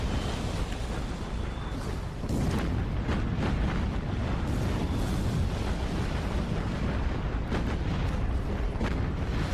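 Explosions hitting a battleship in the Battlestations Pacific naval combat game: a dense, continuous roar of booming blasts and heavy rumble, with repeated sharper bursts layered over the barrage, loud and close throughout.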